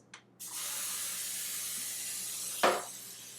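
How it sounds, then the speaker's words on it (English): Nonstick cooking spray hisses into a cake pan in one long, steady burst after a brief initial puff, followed by a short clink near the end, close and alone with no talking. "This is my unique little pan spraying method, and that's essentially to use the edge of this counter and spray"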